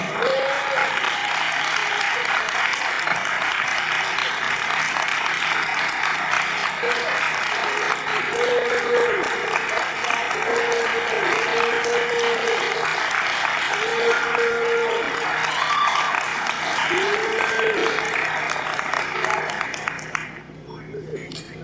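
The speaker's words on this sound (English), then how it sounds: "I just want everybody to please give a round of applause for Reverend Richard Jackson." A congregation applauds a reverend in a church gathering, with sustained dense clapping continuing for about twenty seconds, mixed with voices and a recurring low sung or spoken tone beneath, before fading at the end.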